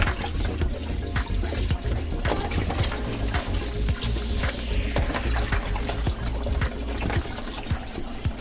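Boiled chicken for Bahamian chicken souse washed under running water: a steady rush of tap water splashing in a sink, with frequent small knocks and handling sounds throughout.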